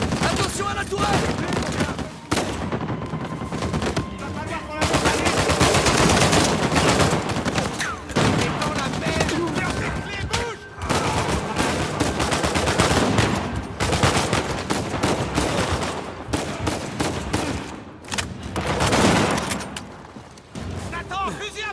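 Turret gunfire in the video game Uncharted 4, sustained loud bursts of automatic fire and impacts rattling almost continuously with brief gaps, dense and close, mixed with game noise.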